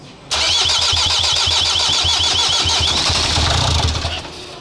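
Renault Trafic van engine starting: an abrupt loud crank that fires immediately and runs with a rough, rhythmic chug for about four seconds before fading, heard close with no talk.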